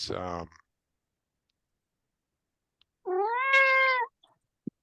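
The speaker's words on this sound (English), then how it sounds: "I don't know if your cat was agreeing with me or not." A cat gives one clear, drawn-out meow close to the microphone during an online meeting, following a short burst of a person's voice and a long quiet gap, then a small click.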